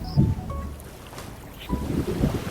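A low, steady diesel engine rumble from a boat runs throughout, with wind buffeting the microphone and water noise around it.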